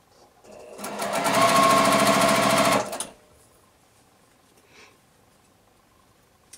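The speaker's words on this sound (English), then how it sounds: "I'm going to sew all four of them together." A sewing machine stitches quilt pieces together in one fast, even burst of about two seconds, then stops, leaving a quiet room with a couple of faint handling sounds.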